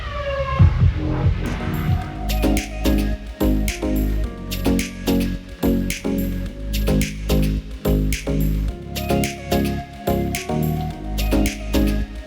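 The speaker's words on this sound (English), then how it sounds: "It's cool, you can hear him doing sound check right now." Main-stage sound check at the Beyond Wonderland festival at the Gorge Amphitheater: deep throbbing bass and sharp, evenly repeated beats pulse continuously, loud and booming with a broad outdoor spread, with no talking over them.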